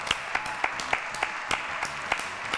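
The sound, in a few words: audience applause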